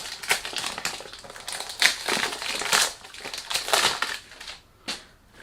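Cardboard perfume box for Mauboussin Histoire d'Homme Irrésistible being opened, crinkling and crushing in close, irregular bursts of loud rustling and scraping with brief pauses, no talking.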